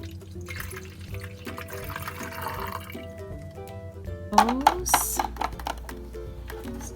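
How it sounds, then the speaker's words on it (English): Water poured into the tank of a PureGuardian humidifier, first a light trickle with scattered drips, then a louder, splashing close pour in the second half. "So I'm pouring the water."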